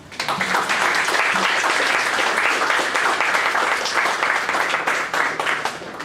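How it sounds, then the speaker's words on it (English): Steady, dense audience applause at a Data Visualization DC presentation night, loud and sustained for about six seconds with no speech over it, tapering slightly at the end. "Okay, yeah, let's do another round of applause."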